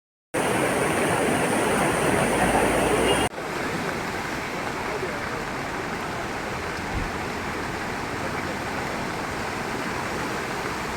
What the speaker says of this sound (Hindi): ब्यास नदी बहुत ही ज़्यादा उफान पर है